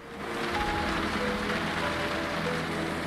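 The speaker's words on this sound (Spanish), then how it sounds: "de la lluvia cayendo en la chapa de los coches" Rain patters on car bodywork in the iRacing sim as a dense, steady hiss of drops. It fades in at the start, then holds constant and fairly loud, with no voices.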